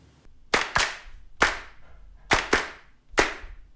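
A drum machine clap sample plays back in a music production program, five sharp, close hand-clap hits in an uneven groove, some with a quick doubled attack, heard alone.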